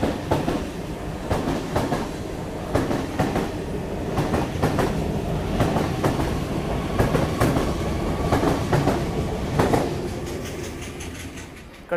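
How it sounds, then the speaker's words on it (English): A Sydney Trains A set (Waratah) rolls past platform 2 at Ashfield station, with a steady rumble and a rhythmic clickety-clack of wheels over rail joints throughout, close and fairly loud. "A28, passing platform number 2."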